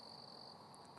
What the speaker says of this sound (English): crickets. That's what you're hearing in the background.